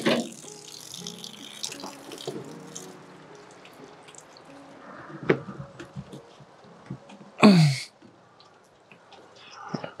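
Water running out of a pipe during cabin deck roof construction, intermittent splashing and dripping with handling noises and a few louder bursts.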